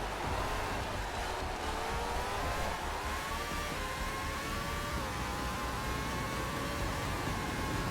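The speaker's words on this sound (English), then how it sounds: "even the sound kind of sounds like an RC car" Formula Legends race car engine, a steady high-pitched whining drone with slowly shifting pitch like a small RC car, continuous and fairly loud against a noisy hiss.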